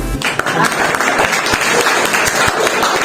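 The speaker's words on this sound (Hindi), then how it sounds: "ताली बजाते रहिए।" Audience applause at a foundation day event for a study centre, a steady dense wash of clapping that fills the whole stretch, loud and close.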